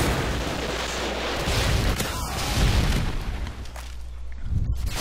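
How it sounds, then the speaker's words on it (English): A Predator missile explosion in Call of Duty: Modern Warfare 2 lands as a loud, rumbling blast, with a rolling boom and continuous battle noise over about five seconds. "Friendly Predator missile inbound."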